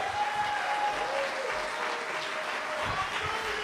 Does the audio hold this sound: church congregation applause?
yes